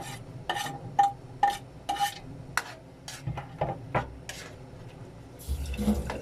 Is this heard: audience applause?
no